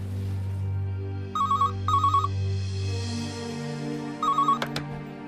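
A telephone rings in a dark house, three double bursts of electronic trilling over a steady low hum, fairly close and with no voices.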